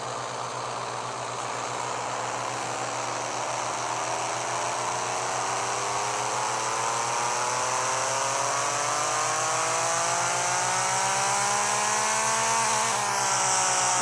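A car engine on a dyno in the game Pixel Car Racer drones steadily and climbs smoothly in pitch as it revs higher, then drops abruptly near the end, with a synthetic, game-like tone.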